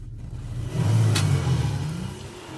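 A Porsche 911 GTS T-Hybrid (992.2) engine fires up and revs once, a short rising rumble that swells and settles back to idle, close and alone.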